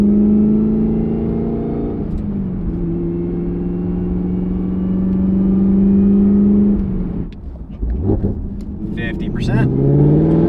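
A Camaro ZL1 with its supercharged LT4 engine and a boost controller pulls at part throttle, a steady loud engine drone rising slowly in pitch, then dropping off briefly before building again near the end.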